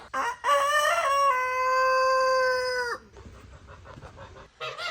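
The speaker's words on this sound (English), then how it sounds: "we can have actual purebred chickens" A rooster crows loudly nearby in one long drawn-out call, followed by purebred farm chickens clucking softly in short bursts.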